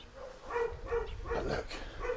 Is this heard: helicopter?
no